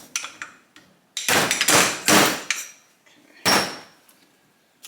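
Metal tapping and clanking as a seal installer tool drives a bushing into a fork leg on a 1984 Kawasaki KX80 motorcycle, with several close, loud strikes and scrapes in uneven bursts and no speech.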